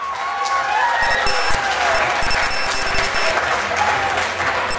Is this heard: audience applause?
yes